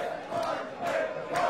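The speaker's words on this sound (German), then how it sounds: "Das erste Team holen wir auf die Bühne mit einem tosenden Applaus." A crowd at a darts event applauds and cheers in swelling waves as a team comes on stage, a dense roar of clapping and voices filling the hall.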